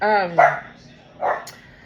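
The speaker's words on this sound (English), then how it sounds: "My dog out here crazy." A dog gives two close, sharp barks with a brief tonal yelp at the start, loud and short against a quiet background.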